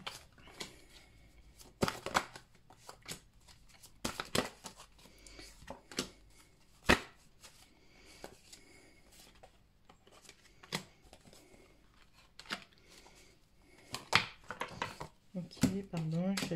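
A deck of cards is shuffled in short bursts of riffling and flicking, close and fairly quiet, with irregular pauses and a few sharper taps between bursts.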